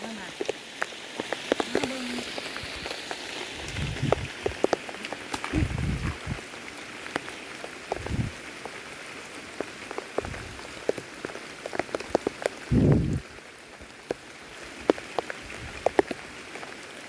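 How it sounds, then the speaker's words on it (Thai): Rain falls steadily outdoors in the forest, a constant patter with sharp individual drops hitting nearby surfaces and occasional thuds, while voices talk briefly in the background. "ฝนตกแต่เศร้าเท่าวะ"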